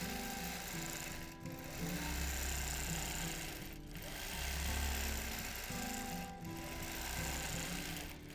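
A sewing machine runs steadily in free-motion quilting, its fast mechanical chatter and motor hum continuous and close, swelling and easing slightly in speed with a few brief pauses.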